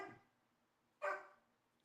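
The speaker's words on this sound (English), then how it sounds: "Got a dog in the background." A dog barks once in the background indoors, a single short muffled bark after a faint earlier sound, otherwise quiet.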